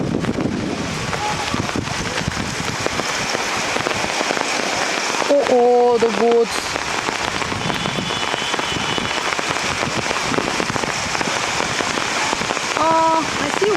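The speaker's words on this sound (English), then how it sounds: "This is clearly hailing" Hail clatters steadily on surfaces outdoors on a tourist day in Darjeeling, a dense, noisy patter with gusty wind buffeting the microphone while people talk and shout nearby.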